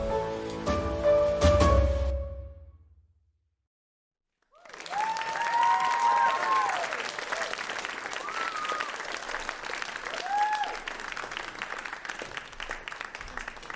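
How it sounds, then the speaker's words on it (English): An audience at a broadcast production showcase claps steadily at moderate distance, with a noisy burst before a short silence and then applause that continues to the end. "Big round of applause, the cast and crew behind A Door into the Dark."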